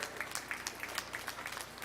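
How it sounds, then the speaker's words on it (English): Crowd at a junior fair sheep show claps as the lambs leave the show ring, a faint, scattered patter of hands with separate distinct claps. "Let's give them all a big round of applause as they exit the ring."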